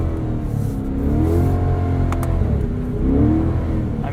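A Corvette convertible with its top down slides sideways through snow in winter, its engine droning steadily with rising and falling revs throughout, close and loud.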